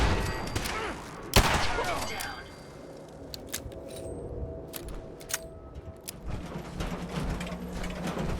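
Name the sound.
gunfire in video game Fallout 4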